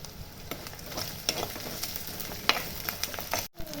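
Garlic and onion frying in a pan for a fish curry, a quiet, crackly sizzle punctuated by sharp spatula clicks and taps, with a brief dropout near the end.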